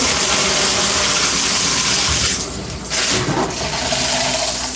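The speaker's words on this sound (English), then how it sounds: "We're going to turn the water back on" Tap water runs steadily at close range for hair washing, a loud continuous splashing rush that dips briefly midway before resuming.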